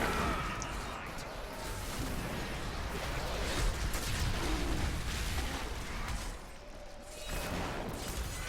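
Rapid booming explosions from the Crusader's Bombardment skill in Diablo III, dense rumbling blasts layered over game effects, with someone talking over them.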